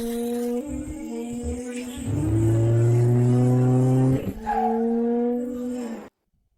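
A modified off-road car engine revs hard, rising in pitch then holding a loud, sustained roar before easing and surging again, close and dominant, then cutting off abruptly.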